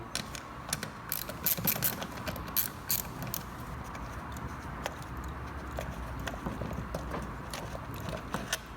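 A ratchet loosening the two small nuts holding the air filter on a small-frame Vespa carburetor, with close, irregular clicking and metallic clatter throughout and no voices.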